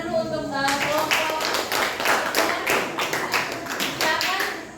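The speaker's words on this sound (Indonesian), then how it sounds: "kita berikan tepuk tangan dulu untuk kelompok." A classroom of students applauds a group presentation with brisk, uneven hand clapping that starts after a brief voice and continues as a close, rhythmic patter of many hands for several seconds.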